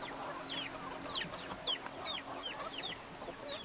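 Several chickens cluck and chirp at close range during feeding, a steady scatter of short calls overlapping one another over a low background hum, with no talking.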